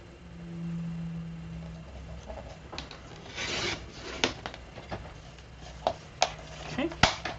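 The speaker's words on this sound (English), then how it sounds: "this is a 2-inch piece, so I'm just going to cut it to 1 inch in length" A small piece being cut from 2 inches down to 1 inch for a memory dex box, heard as a series of sharp rasping cuts and clicks that grow more frequent toward the end, close by and moderately loud.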